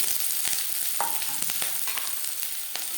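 Chopped onion and green chili crackle in a little hot refined oil, a dense, close sizzle with scattered pops and light stirring scrapes throughout.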